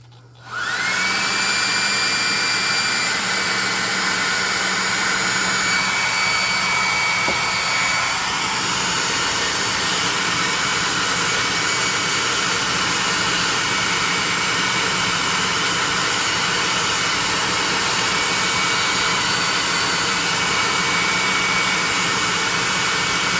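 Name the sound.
hair dryer drying a painted miniature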